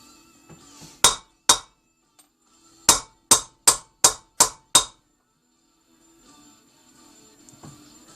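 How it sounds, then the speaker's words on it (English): Hammer tapping a wheel bearing into the rear hub of a Triumph Bonneville America Speedmaster, two sharp metallic knocks, then a quick run of five evenly spaced taps, close and loud, followed by quiet shuffling. "slide the bearing over the top and tap it down"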